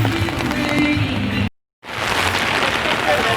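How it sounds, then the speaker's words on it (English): Steady heavy rain pours down near a riverside boat shelter, a dense wash of patter that cuts out briefly midway, then resumes just as full. "I'm filming in the rain"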